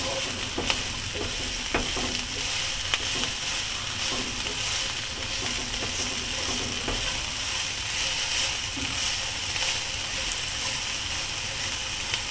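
Chorizo and eggs sizzle and fry in a pan for a breakfast burrito, a steady bright crackling hiss with occasional scraping and clicking as a utensil stirs them, no voices over it.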